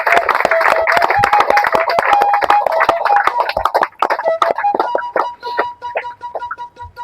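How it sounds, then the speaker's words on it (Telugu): A seated audience at a pyramid meditation gathering claps in a dense burst of applause that thins into scattered, fading claps near the end. "క్లాప్స్ కొడతాం."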